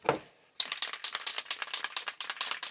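Spray paint can shaken briskly, the mixing ball rattling in a fast, steady run of close clicks after a brief pause, loud and alone without talk.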